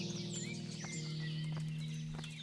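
Horse hooves clip-clopping in the medieval game Kingdom Come, a steady patter of steps under a constant low tonal drone and bright chirping birds, with no talk.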